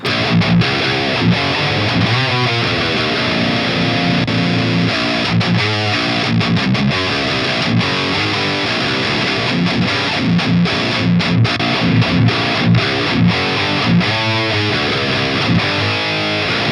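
Heavily distorted electric guitar through a Fryette Deliverance tube amp plays chugging riffs and sustained chords, loud and continuous, with a thick saturated amp tone.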